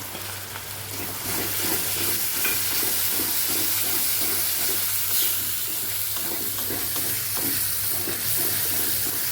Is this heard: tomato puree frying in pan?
yes